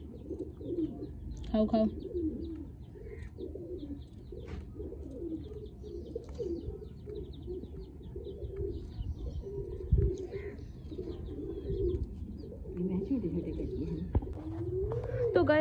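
Soft, low pigeon coos repeat throughout at close range, mixed with faint chirps and someone speaking over them.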